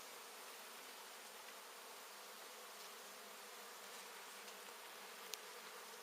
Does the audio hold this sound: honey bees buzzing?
yes